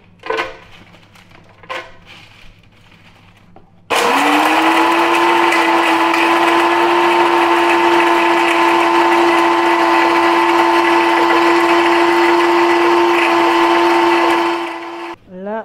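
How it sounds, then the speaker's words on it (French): An electric grinder crushes dried potato into flour. After a few seconds of quiet handling noises, it starts abruptly and runs as a loud, steady, high-pitched whine for about eleven seconds before winding down. "Maintenant, nous allons rapidement l'écraser pour avoir la farine."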